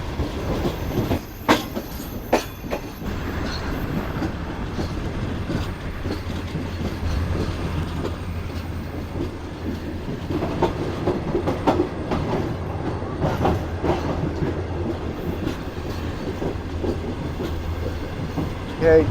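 Inside a business class cabin of a Thar Desert train running from Karachi toward the Indian border, the carriage rumbles steadily with rhythmic wheel clicks and occasional sharp knocks, a close and continuous sound throughout.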